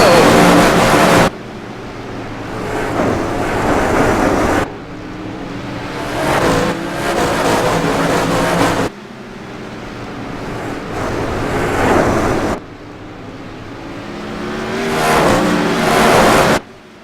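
360 sprint cars racing at Irwindale Speedway, engines roaring and surging as they pass on the gas, with abrupt cuts between loud passes and a commentator talking over the engines.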